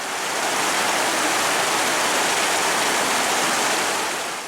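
Steady, dense rush of flowing spring water at Telaga Biru, the source feeding the 7 Bidadari waterfall in North Aceh, a continuous even roar with no breaks or voices.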